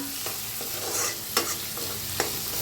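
Chopped onion sizzles in a hot pan while being stirred, a steady frying hiss broken by a few sharp scraping strokes of the spoon, close and with no talking.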